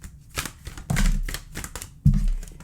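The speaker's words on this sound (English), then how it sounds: "first I'm just going to be shuffling a couple of extra oracle cards here" Oracle cards being shuffled by hand, a series of short crisp riffling and slapping bursts with a couple of louder thumps as the deck is squared, close and alone without talk.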